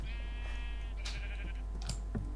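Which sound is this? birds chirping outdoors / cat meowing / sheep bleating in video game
sheep bleating in video game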